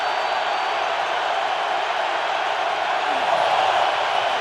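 The crowd at Lambeau Field on its feet during a Buccaneers–Packers playoff game in the cold, a loud, continuous roar that swells slightly near the end.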